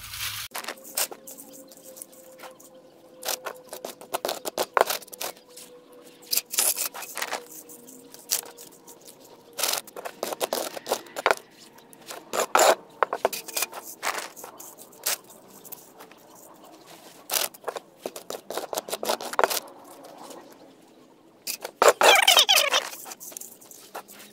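Scraping and rubbing of a wooden board dragged across loose potting soil to level a seed tray, in irregular gritty strokes with short squeaky bursts, close by and without speech.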